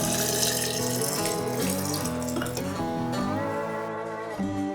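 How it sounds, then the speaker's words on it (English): Strawberry and raspberry punch is poured steadily into milk for a clarified margarita, a continuous liquid splash and trickle lasting several seconds at close range. "I'm pouring the punch into the milk where it will sit undisturbed for at least an hour."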